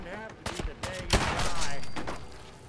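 A short burst of gunfire in Fallout 4, a few sharp shots layered over a continuous loud background, with a voice talking over it.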